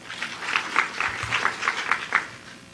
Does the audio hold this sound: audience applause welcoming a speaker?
yes